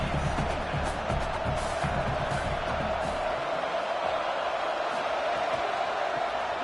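A home college football crowd roars on third down as a dense, loud, sustained wash of cheering that swells at first and then stays steady, with faint voices mixed in.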